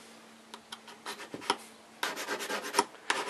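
Coarse file rasping along a garden lopper blade, a series of short scraping strokes that start sparse and grow more continuous, close and fairly quiet with no talking.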